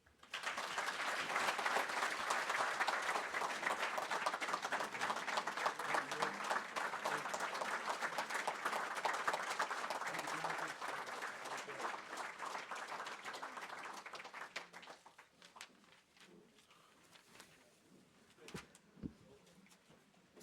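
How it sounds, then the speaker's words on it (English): Sustained applause from the audience at the 2025 Virginia Golf Hall of Fame induction ceremony, a long dense wash of clapping lasting about fifteen seconds before thinning to scattered claps and quiet room noise. "Let's give one more round of applause to the Virginia Golf Hall of Fame class of 2025."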